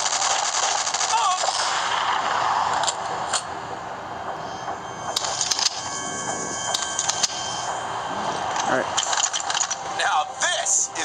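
AK-47 fire in the video game Modern Combat 2 crackles in sharp bursts and single shots over a steady background of game noise, moderately loud.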